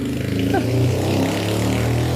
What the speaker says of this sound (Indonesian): Aduh, bising banget motor.